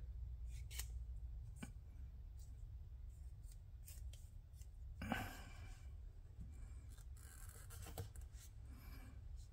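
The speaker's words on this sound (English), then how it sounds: "It's slicing through the leather pretty good" A small Roxon M4 mini EDC multi-tool blade slices through leather with light pressure, giving faint, close scratchy cuts and rasps at irregular intervals, with one brief, louder stroke midway over a quiet, steady background.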